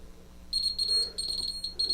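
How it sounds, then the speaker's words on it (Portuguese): A Keysight U1282A multimeter beeps in a steady high tone, broken into several short bursts over about a second and a half, close and clear over faint background hum. "O Keysight bipa."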